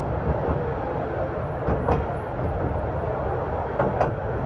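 A mine train rolls along the rails deep inside the Bex salt mines, a steady rumbling drone with occasional faint wheel clicks and squeaks.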